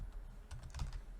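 Soft keystrokes on a computer keyboard while entering commands, a short cluster of quiet taps close by with no speech.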